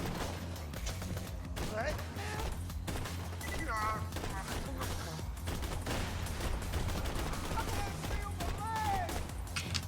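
Rapid turret gunfire in the Borderlands 2 video game, steady bursts running throughout alongside game music and voices, with talk over the shooting.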